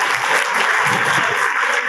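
Audience applause at a live poetry recital, a dense, steady burst of many hands clapping that carries on without a break for the whole couple of seconds, loud and close.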